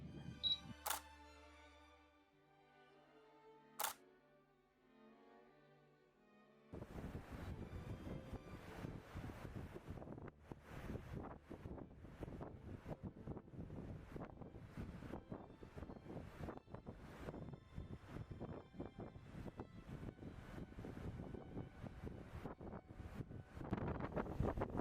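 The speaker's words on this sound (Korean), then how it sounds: "여기는 바람이 많이 불어서 시원하다 못해 추웠는데" Strong wind at the seaside in Goseong, Gangwon, roars steadily and loudly into the microphone as a dense, continuous rumble. A few faint clicks and tones come before the gusts start.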